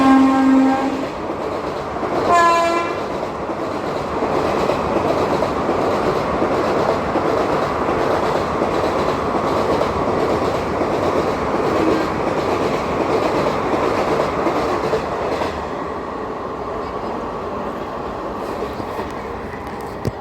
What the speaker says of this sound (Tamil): இது double holding of Sainagar CD to Chennai central super fast express